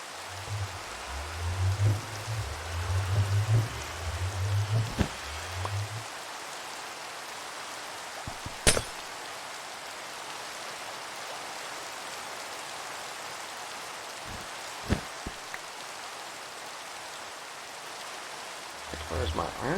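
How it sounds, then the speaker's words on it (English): Steady, soft rain hiss in Minecraft, a continuous wash of pattering drops heard fairly quietly for about twenty seconds, with a muffled voice briefly at the start and a few isolated clicks and knocks. "Rain, rain, rain, rain, rain."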